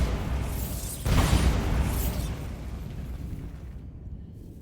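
A Bombarda spell in Hogwarts Legacy lands as a muffled, rumbling blast with a brief crackling burst, then fades into low game background noise.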